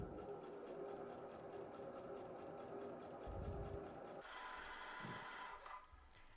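A sewing machine stitches a folded dress hem with fabric right side up, running in a steady, close mechanical whir with a fast needle rhythm, briefly changing pace and easing off just before stopping.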